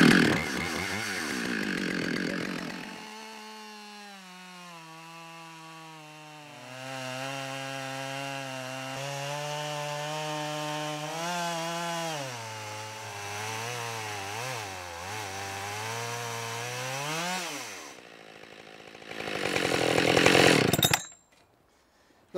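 Chainsaw fitted with a mini Alaskan mill ripping through wood, a steady near whine whose pitch sags and climbs under load for about fifteen seconds before easing off, followed by a brief idle rev and an abrupt stop.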